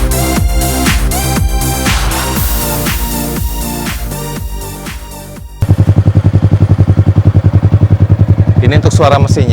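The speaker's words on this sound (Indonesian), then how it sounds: "Ini untuk suara mesinnya, karena ini mesinnya Jupiter MX, jadi memang tidak terlalu garang, tapi cukup lah." A Yamaha Jupiter MX motorcycle engine, modified with a Ducati Panigale-style body, idles and revs with a steady mechanical throb, then settles into a loud, rapid putter close by; not very aggressive.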